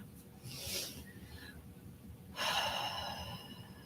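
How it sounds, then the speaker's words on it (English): A long, deep breath, a slow airy inhale swelling then fading, followed by a brief pause and a stronger, breathy exhale close to the microphone, quiet and alone. "take a long,"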